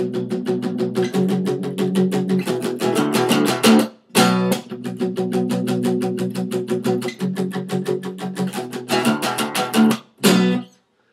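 Electric guitar in drop D tuning plays the palm-muted verse riff of a song, with fast, loud chugging power chords broken by two brief pauses and a few ringing chords near the end, with no talking.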